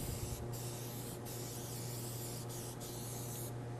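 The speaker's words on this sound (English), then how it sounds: "when I spray my pan, I don't spray my edges." Cooking spray hisses steadily onto the bottom of a square meatloaf pan, a continuous close aerosol spray with a few brief pauses.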